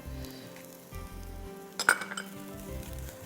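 Garlic sizzles in a pot with browned onions for ash reshteh soup: a steady low sizzle, with a brief burst of sharp utensil clinks near the middle.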